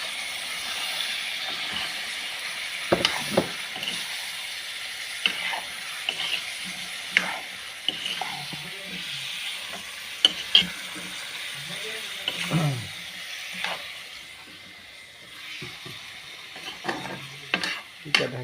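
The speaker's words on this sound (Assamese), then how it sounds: "চাওক কেনেকৈ উতলিছে" Pork hits hot mustard oil in an Assamese home kitchen and sizzles in a loud, steady hiss, with sharp scrapes and clatters of stirring breaking through at intervals.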